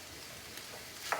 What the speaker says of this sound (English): you start sauteing these peppers and onions in here